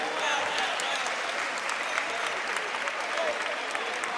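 Audience at the NSMQ 2025 Ashanti regional championship finals gives Kumasi Academy a steady, even round of applause, dense and moderately distant, with no break throughout.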